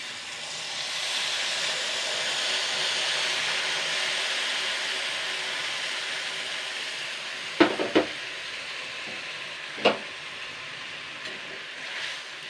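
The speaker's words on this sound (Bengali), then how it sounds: "এবার আমি এই যে তেঁতুলের কাতটা বানিয়ে রেখেছিলাম এটা আমি দিয়ে দেবো" Tamarind pulp hisses and sizzles steadily in a hot pan with turmeric, a broad continuous fry that eases slightly over time, with a few sharp clinks of a spoon stirring near the end.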